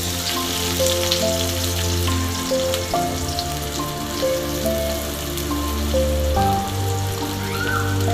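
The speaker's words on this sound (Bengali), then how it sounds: "তেল খান গরম হয়ে গেলে দিয়ে দিব পেঁয়াজ।" Onions fry in hot oil in a wok, a steady, close, dense sizzle that holds evenly throughout beneath sustained tonal background music.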